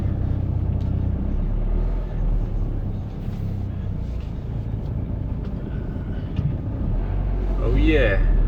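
A van's engine rumbles low and steady as the van is put in gear and begins to pull away, with a faint rising whine near the end and a voice heard over the drone.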